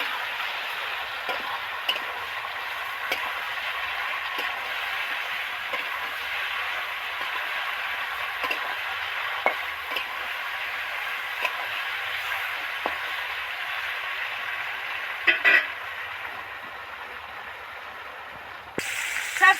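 Brinjal and mixed vegetables sizzle in hot oil while being stirred, a steady crackling fry close by with occasional scraping taps of the spoon against the pan.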